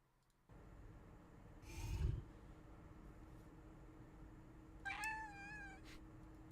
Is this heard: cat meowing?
yes